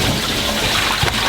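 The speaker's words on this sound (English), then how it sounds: "a hole this big, the stream of water coming in was insane" Water gushing in through a large hole in a catamaran's hull, a steady dense hiss and rush of flowing water, close and constant throughout.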